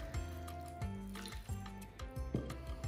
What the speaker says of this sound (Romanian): O să punem cam o jumătate de pahar de apă.